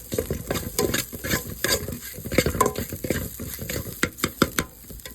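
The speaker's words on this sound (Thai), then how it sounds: "แล้วก็เอามาผัดให้มันหอมหอม" Ingredients for a banana-stem curry with dried fish being stir-fried in a pan, with brisk, close scraping and clattering strokes of a utensil over a continuous sizzle.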